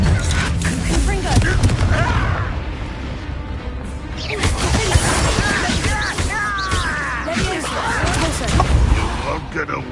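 Repeated fire spell blasts in a Hogwarts Legacy duel, bursting and crashing loudly amid a dense mix of combat effects, with voices calling out between the hits.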